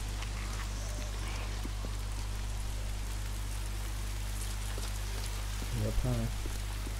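Soft, steady rainfall in the video game Days Gone hisses in the background beneath a low hum, with a brief rhythmic chirping near the end.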